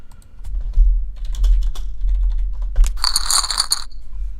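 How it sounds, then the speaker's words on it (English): Rapid clacking keystrokes on a cheap, worn mechanical keyboard sound up close, irregular bursts of clicks during online poker play, ending in a brighter jangling rattle. "Mr. Win You Lose sounds like a shit mech keyboard"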